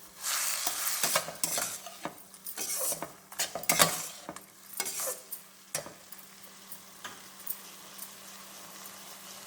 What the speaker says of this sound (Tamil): அதில் கொஞ்சம் எண்ணெயில் கொஞ்சம் ஃப்ரை பண்ணுறேங்க